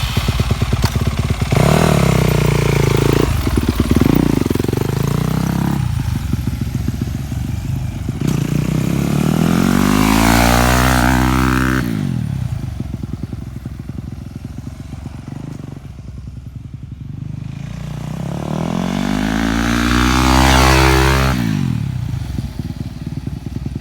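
A dirt bike engine revs hard and climbs to high RPM without shifting up, whining in long rising sweeps that drop off and then climb again, loud and close.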